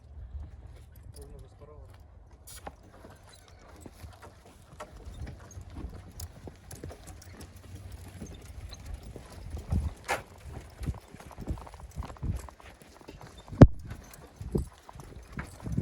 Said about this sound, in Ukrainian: Лошечка запрягана, все як має бути.